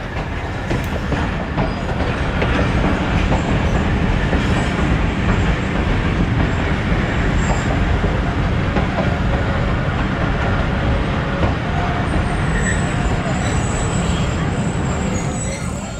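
A Thal Express passenger train running on rails, a steady, loud rolling rumble with rattling carriages and faint clicks that persists unbroken through the whole stretch.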